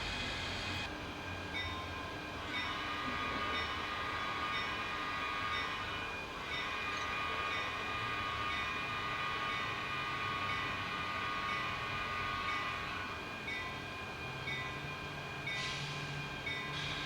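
Model train on a BNSF layout climbing a helix, a steady mechanical rumble and rolling clatter sustained throughout, with faint horn-like tones appearing briefly, and no voices.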